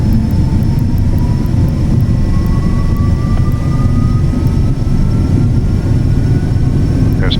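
Twin Learjet 35 jet engines at takeoff power in a flight simulator, a loud steady roar with a low rumble and a faint rising whine, continuous and close.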